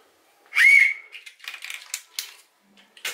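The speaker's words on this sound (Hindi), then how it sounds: "इसमें निकला है हमें ये एक सीटी" A small toy whistle from a chocolate surprise egg gives one shrill, steady blow, followed by scattered light clicks and rattles as it is handled.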